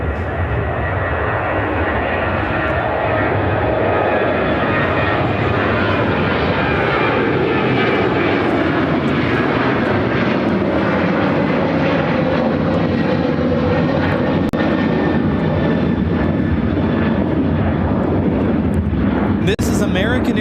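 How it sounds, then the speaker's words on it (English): American Airlines Boeing 737-800 taking off from Chicago O'Hare for Houston, a loud, sustained jet engine roar that holds strong for the whole stretch, with voices talking beneath it. "1168 taking off to Houston Intercontinental on a 737-800."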